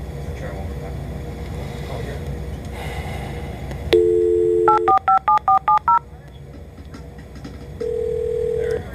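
A dial tone gives way to a quick series of touch-tone dialing beeps, then a ringing tone, over a steady background hum.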